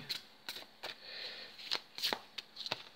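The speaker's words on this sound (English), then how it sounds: "And then I'm going to shuffle." Deck of moon oracle cards being shuffled, a run of crisp riffling and slapping bursts with short pauses between, close and fairly quiet, no talk.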